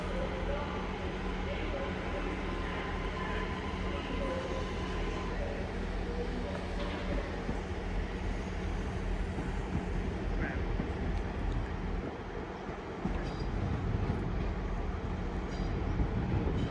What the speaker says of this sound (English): But I'm guessing this is a Manchester Piccadilly train.